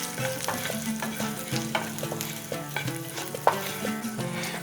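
Whole mustard seed, cumin, chopped green chili, chopped cashew and a pinch of asafoetida sizzle in hot oil for a vegetarian dish, with a spoon repeatedly scraping and knocking the pan in an uneven rhythm under a steady close crackle.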